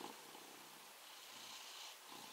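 A cat purring close by, a soft continuous rumbling purr with gentle rising and falling breaths, heard alone without speech.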